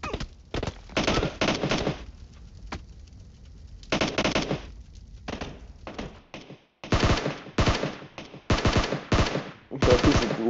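Automatic gunfire in the video game PUBG rings out in repeated loud, rapid bursts separated by short pauses, with no talk over it.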